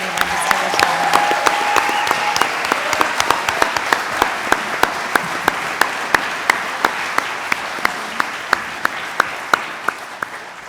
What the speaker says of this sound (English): Will you join me in one more round of applause